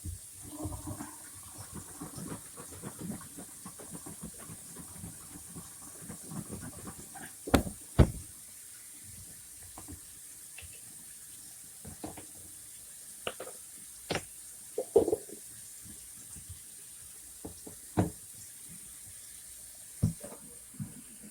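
Water trickles and splashes intermittently while fabric softener is diluted at home, with soft running flow broken by several sharp, louder splashes or clunks, close by, with no talking.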